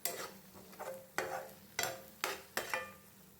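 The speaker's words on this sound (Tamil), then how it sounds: "உப்பு சேர்த்தப்ப நல்லா கிளறி கொடுத்துக்கலாம்" Gongura leaves with salt fry in oil while a spoon stirs them, making a soft sizzle with five or six distinct scraping strokes against the pan, close but fairly quiet.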